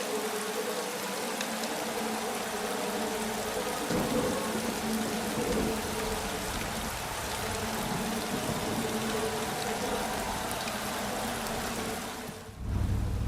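Steady heavy rain falling on the Brands Hatch circuit in the motorcycle racing game RIDE 3, a continuous loud wash of patter that cuts off sharply near the end, with no speech.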